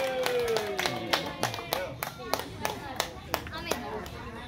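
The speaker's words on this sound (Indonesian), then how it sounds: "Yuk, kasih tepuk tangan semuanya." Scattered hand claps ring out from an audience at a neighborhood mothers' quiz contest for Indonesian Independence Day, sharp and fairly close, with a voice talking over them at the start.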